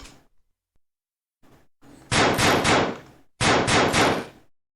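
Gunfire sound effect for a cannon-shooting game: a few faint thumps, then two loud bursts of rapid, echoing shots, each lasting more than a second and separated by a brief gap, with no talking.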